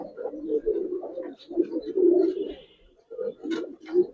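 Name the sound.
Giribaz pigeons cooing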